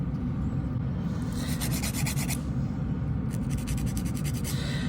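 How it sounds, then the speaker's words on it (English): A new nail file shapes a client's fingernails during a manicure, making light rasping strokes in two separate runs over a steady low background hum. "take the edge of a new file, just so I don't cut the client, and we're gonna shape them"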